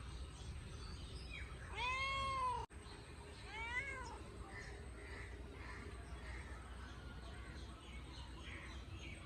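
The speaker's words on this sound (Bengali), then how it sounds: "আমাদের ম্যাও পায়ে পায়ে হেঁটে বেড়াচ্ছে আর ডাকছে মেয়া ম্যাও মেয়া মেয়া করে" A cat meows several times, two clear drawn-out calls followed by softer ones against a quiet background.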